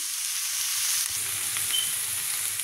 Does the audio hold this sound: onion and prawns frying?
yes